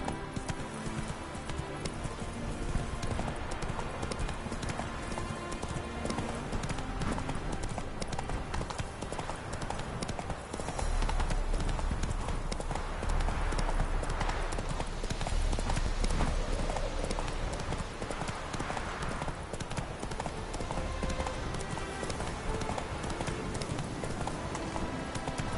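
Roach the horse galloping in The Witcher 3, hooves drumming in a fast continuous clip-clop rhythm over game music, close and steady for the whole stretch.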